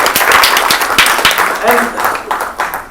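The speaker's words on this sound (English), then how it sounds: "Round of applause." Audience at a book launch event applauding, a dense patter of claps with sharp hand strikes across the whole span, steady and fairly loud, with voices mixed in underneath.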